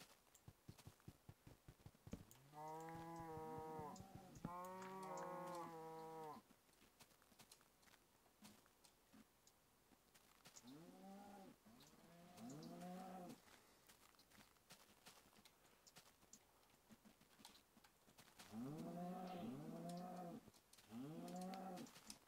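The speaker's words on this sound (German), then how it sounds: "Tausende Kühe sind hier." Cows in the video game Minecraft give several drawn-out moos in clusters, some near and some fainter, with light footsteps and game noises in the quiet gaps between them.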